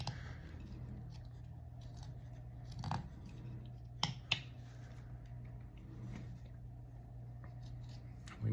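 A knife carving the nose of a wood spirit figure, giving a few faint scraping cuts and two sharp clicks near the middle over a steady low hum, close and quiet.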